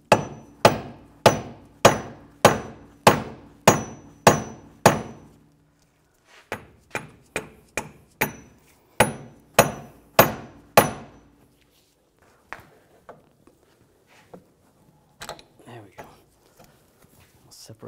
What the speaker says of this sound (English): Have to hammer this a little.